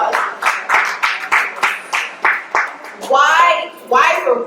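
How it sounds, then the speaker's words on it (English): A group claps in a steady rhythmic beat, then voices break in with cheering and chatter near the end. "round of applause."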